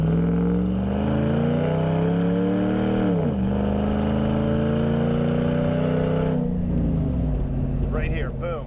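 Dodge Ram truck engine pulling along tight canyon roads, a steady loud drone with gear shifts and rising revs, a dip near three seconds, with someone talking over it.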